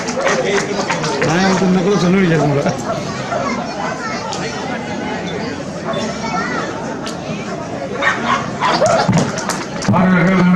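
Dogs bark and yip at a dog show in Kodaikanal held in light drizzle, heard through a busy crowd with constant chatter and people talking nearby.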